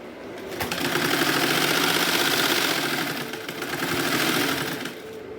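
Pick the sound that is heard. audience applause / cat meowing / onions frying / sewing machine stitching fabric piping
sewing machine stitching fabric piping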